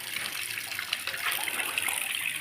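Tap water runs steadily into a container being filled at a home goat-rearing shed, a continuous close hiss with no talking over it.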